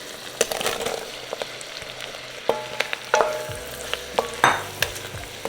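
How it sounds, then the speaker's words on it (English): Mushrooms added to a pan of garlic cloves and rendered bacon for rigatoni, stirred and sizzling close by, with scraping spoon strokes and sharp clanks over a steady low fry. "And now we're gonna add our mushrooms."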